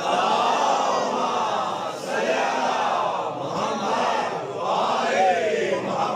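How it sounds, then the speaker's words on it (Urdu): Large crowd at a Milad-un-Nabi gathering reciting salawat loudly together, a continuous dense mass of voices chanting in unison throughout, sustained and close. "باجماعت بلند آواز سے صلوات پڑھ دیجئے نبی کی ذات پر"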